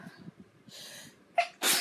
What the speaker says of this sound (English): Sneezes come in threes.